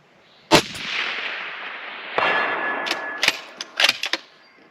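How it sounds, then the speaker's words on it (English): A rifle firing 175 grain bullets at a long-range target: one sharp loud report, a long rolling echo, and then a cluster of quick cracks and clicks near the end. "That is just such a solid hit when you've got a 175 grain bullet flying out there."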